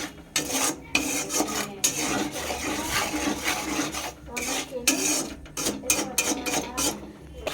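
A utensil scrapes spices around a pan over a low flame in quick, irregular rasping strokes with short pauses, close and fairly loud.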